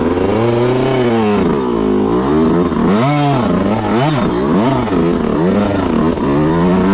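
A Yamaha YZ125X two-stroke dirt bike climbs uphill off-road, its engine revving hard and loud, pitch rising and falling over and over as the throttle works, close and continuous with no voices.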